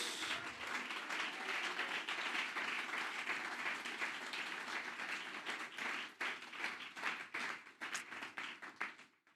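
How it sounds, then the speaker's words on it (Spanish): A church congregation applauds during a sermon, a dense, sustained wash of clapping that holds steady and then thins into scattered individual claps near the end. "Dele ese aplauso a nuestro Dios"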